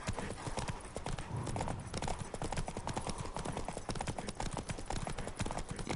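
Horse hooves gallop in a fast, steady clip-clop rhythm throughout in The Witcher 3 video game, close and continuous, over a dense rumbling background.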